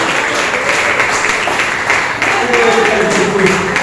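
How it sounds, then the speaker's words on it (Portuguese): A church congregation applauds during an evening service, a steady wash of many hands clapping at even loudness throughout, with a voice speaking over it. "A igreja pode aplaudir o Senhor"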